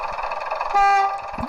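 A Bachmann Class 101 DMU model train's DCC sound unit gives a brief buzz to the driver, a steady tonal drone lasting under a second over a continuous diesel engine rumble, heard alone without speech.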